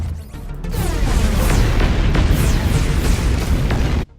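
Missile salvo explosions from the Robocraft video game, a dense, continuous barrage of booming blasts rolling together for about three seconds at high volume before cutting off abruptly.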